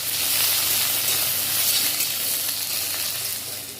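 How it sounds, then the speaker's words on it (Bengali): Onions fry in oil with a pinch of salt and turmeric, producing a loud, dense, continuous sizzle that stays even throughout and tapers slightly at the end. "এই তেলের মধ্যে পেঁয়াজ ভেজে নেব"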